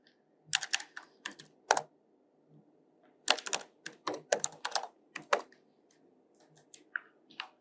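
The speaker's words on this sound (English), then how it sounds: "So first we have to type inside this." Bursts of fast typing on a computer keyboard, crisp close clicks in short runs separated by pauses, over a faint steady background hum with no talking.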